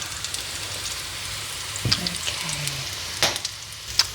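Salmon patties frying in a pan, a soft continuous sizzle with a few light scrapes and taps of a utensil, close and quiet.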